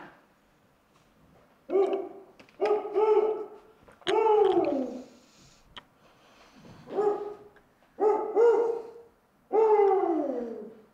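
A person imitates the hoot call of a Mexican spotted owl in Arizona, giving a series of distinct, loud, close hoots in uneven clusters separated by short silences.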